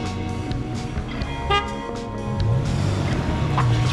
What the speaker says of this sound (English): honk your horn when you're ready for me to go.